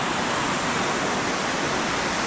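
Steady, dense rush of Elephant Falls in Meghalaya pours without a break, a broad continuous roar of falling water heard up close with no voices.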